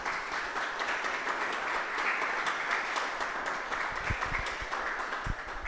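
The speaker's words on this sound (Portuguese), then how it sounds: "Vamos aplaudir a Bíblia, a palavra do Senhor?" A church congregation applauds the Bible reading, with steady dense clapping that fills the room evenly and includes a few sharper claps near the end.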